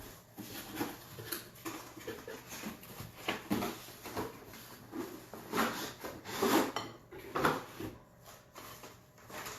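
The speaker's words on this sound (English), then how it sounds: "I'm going to get out our pan." A metal springform cheesecake pan is pulled from a kitchen cupboard, with close clanks of pots and pans, wooden drawer and rubbing noises, and a few sharp knocks amid the rummaging.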